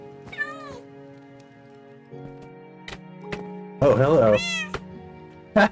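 A Minecraft cat lets out several clear, close meows, one drawn out and louder, between short spans of quiet game ambience, while a person briefly speaks.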